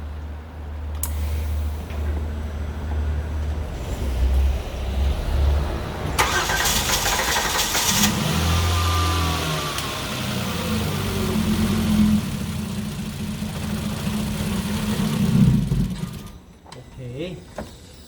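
A Kia K7 with a 3.0 LPI engine, towed in after stalling while driving, cranks with a rhythmic starter whir. It catches and runs at an uneven idle, with people talking nearby.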